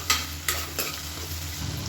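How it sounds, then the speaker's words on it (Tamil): Onions sautéing in oil with salt for a vegetable biryani, a close, loud hiss of frying with a few sharp scrapes of a spoon stirring through the pan. "வெங்காயம் நல்லா வதங்கட்டும்."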